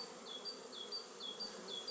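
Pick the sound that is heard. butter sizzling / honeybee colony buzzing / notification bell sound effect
honeybee colony buzzing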